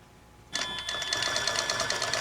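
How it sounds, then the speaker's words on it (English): A Tin Lizzie quilting machine starts stitching in its stitch mode after a quiet moment, then runs with a steady, fast mechanical whir and rapid needle rhythm. "in the Lizzie stitch mode, I hit start and I quilt"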